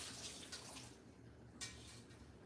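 A dish rinsed under a running tap, a faint, steady water splash with brief louder gushes, alone and quiet, with no talking.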